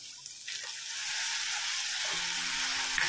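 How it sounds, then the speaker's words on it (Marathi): Chopped tomato frying with dried prawns in a pan, a steady close sizzle that swells and holds loud throughout, with no voices. "आता आपण ह्याच्यामध्ये बारीक चिरलेला टोमॅटो घालूया"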